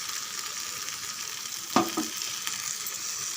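Chicken sizzles steadily in a hot pan, with a brief clatter of a spoon stirring partway through.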